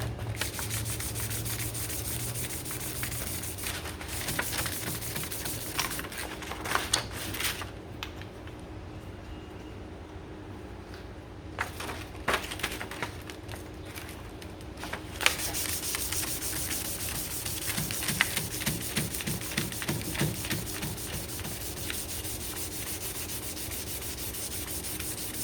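Fine sandpaper rubs back and forth on a custom harp slider in steady, close strokes that pause briefly midway and then resume with a quicker rhythm.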